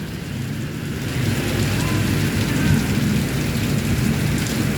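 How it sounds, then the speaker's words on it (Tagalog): Steady, heavy rain pours during a typhoon in a flooded street, a dense broadband wash that grows louder after the first second, with a low rumble of thunder mixed in underneath. "kumukulog-kulog pa"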